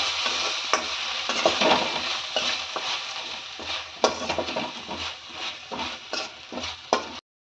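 Spices with garlic and ginger frying in a pan for brinjal gravy, with a continuous hiss of sizzling and repeated scraping stir strokes of a utensil, close and moderately loud, ending abruptly.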